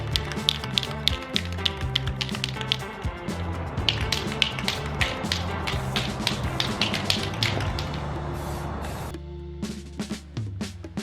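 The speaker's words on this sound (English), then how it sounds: "Make sure to shake your can again." A spray paint can is shaken hard, its mixing ball rattling in fast, loud, rhythmic clacks over roughly nine seconds before slowing into a few softer knocks.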